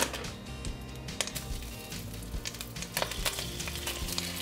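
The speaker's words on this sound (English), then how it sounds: "So I'm gonna go ahead and put my beef in there." Beef sizzles and fries in hot oil in a pan for a stir fry, a dense continuous crackle with scattered sharper pops and occasional stirring scrapes, close and fairly loud with no talking.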